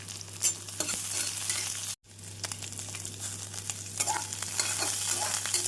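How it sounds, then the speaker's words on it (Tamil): Onion, green chili and curry leaves fry in hot oil with mustard seeds and cumin in a pan for a beans poriyal, a steady close sizzle with stirring scrapes and a brief dropout. "நாம் வெங்காயத்துடன் பச்சை மிளகாய் கருவேப்பிலை சேர்த்து விடலாம்"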